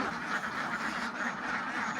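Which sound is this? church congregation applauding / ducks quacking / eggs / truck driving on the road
ducks quacking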